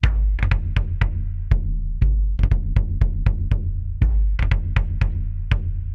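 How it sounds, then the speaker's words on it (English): A low, droning bowed tagelharpa (bowed lyre) tone sustains beneath a series of sharp, loud percussive hits that strike in an irregular rhythm throughout. "the Tagelharpa instrument itself sounds really good"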